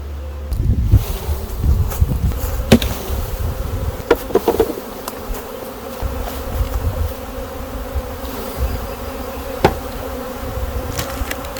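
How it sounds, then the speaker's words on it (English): Honey bees from a nucleus colony with a drone-laying queen swarm around an opened hive after being shaken off the frames. Their dense, steady buzzing is loud and close, with occasional knocks and clicks mixed in. "I just shook the bees off in front of this hive"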